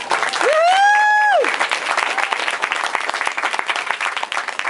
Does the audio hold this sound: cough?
no